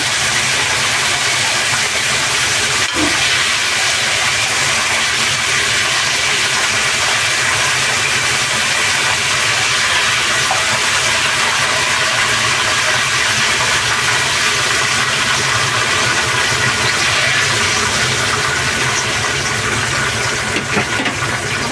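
Loitta (Bombay duck) fish frying in hot oil, a dense continuous sizzling hiss that stays loud and steady throughout, with no talk.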